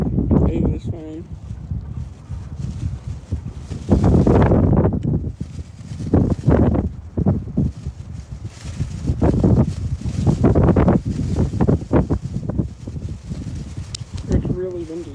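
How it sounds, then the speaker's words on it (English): Strong outdoor wind buffets the microphone in continuous rough, rumbling gusts that swell and ease throughout, with voices partly buried underneath. "It's really windy."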